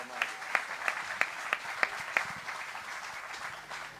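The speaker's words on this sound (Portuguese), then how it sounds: "Uma salva de palmas aqui para o Dr." Audience at a charity concert claps in a short burst of distinct, evenly spaced claps that fade out after a couple of seconds, with a low murmur lingering underneath.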